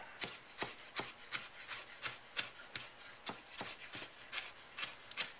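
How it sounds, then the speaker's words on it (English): A knife chops tomatoes into small quarter-inch chunks on a cutting board for a taco salad, giving about fifteen quiet, evenly spaced, crisp strikes in a steady rhythm. "And your tomatoes, you want to make them at about 1/4 inch chunks"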